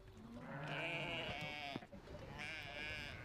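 Sheep bleat repeatedly, loud and close, in a flock during daily hand-milking of ewes by a shepherd, with overlapping calls and some farmyard clatter.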